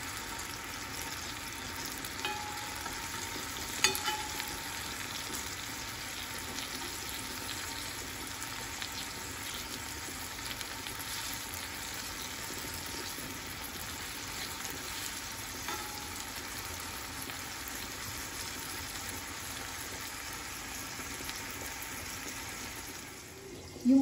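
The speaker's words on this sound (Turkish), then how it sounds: "Şöyle sucuklarımı pişiriyorum" Sucuk sausage cooks in a pan with a continuous, even sizzle and crackle, close and steady for over twenty seconds, with a brief clink near the start and at the end.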